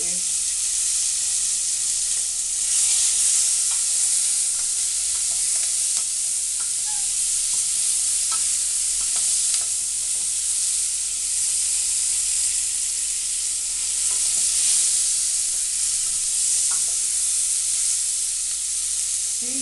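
Oxtail and beef brown in a pot for stew, giving a steady, dense sizzle and hiss with occasional faint clicks of stirring throughout and no voices.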